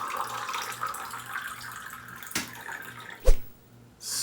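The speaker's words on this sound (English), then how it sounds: "I'm going to pour it into this cup just so that you can see." Water pours into a cup in a steady close-up stream of splashing and trickling, a couple of sharp clinks near the end, then a brief pause before the pouring noise resumes.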